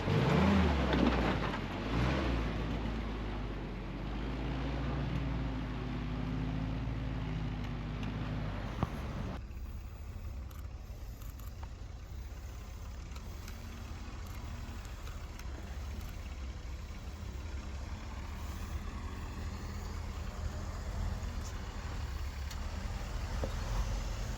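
A vintage Jeep engine works hard over a sand trail obstacle, revving loudly up close for several seconds and then settling into a steadier, quieter running drone.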